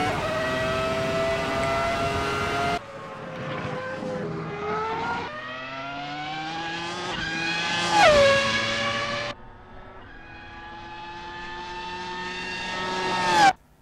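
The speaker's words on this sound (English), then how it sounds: "I'm going to be quiet on this lap so you can hear the car in all its glory." A Super GP race car engine in the racing game Assetto Corsa screams through rising gear pulls, each upshift dropping the pitch before it climbs again, loud and alone with no talk.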